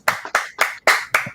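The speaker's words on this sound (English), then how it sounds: "let's give her a round of applause here." Five or six sharp, evenly spaced bursts of a few hands clapping, close and loud, during a casual fireside interview, with no talk over them.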